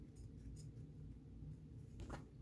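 Quiet, close snips of scissors cutting fabric, a few short crisp cuts over a faint background hum, with one louder snip near the end.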